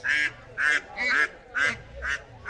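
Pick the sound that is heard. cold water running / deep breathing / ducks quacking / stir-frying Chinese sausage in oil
ducks quacking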